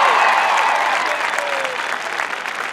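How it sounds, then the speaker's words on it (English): A rally crowd applauds and cheers for Senator Bob Casey, dense clapping mixed with whoops and shouts, gradually easing off toward the end. "Please give a big round of applause to Senator Bob Casey"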